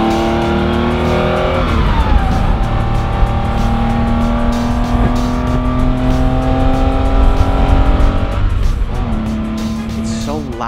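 A 1968 Porsche 911L engine roars loudly from inside the cabin while driving, rising and falling in pitch through revs and gear changes and staying steady and close throughout.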